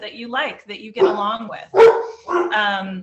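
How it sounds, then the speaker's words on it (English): Dogs bark in loud, repeated bursts at someone at the door of a home, breaking in over a person speaking, with the barks spaced roughly every second. "Please excuse my dogs. I am working from home and someone's at the door."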